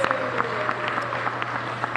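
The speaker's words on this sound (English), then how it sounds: "Give her a big round of applause." An audience applauds at a small business event, a steady, moderate patter of clapping with a low hum underneath and no speech over it.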